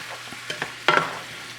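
A tikka masala sauce of tomato soup and heavy cream gets stirred in a pot, with a few soft, brief scraping strokes from the spoon, close and fairly quiet.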